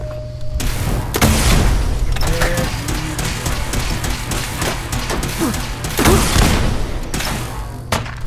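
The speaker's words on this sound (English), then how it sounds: "Missile launcher." Missile launcher explosions and gunfire in Fallout 4 gameplay, with dense booming blasts and crashes over continuous battle noise and a droning hum, heavier bursts near the start and around six seconds.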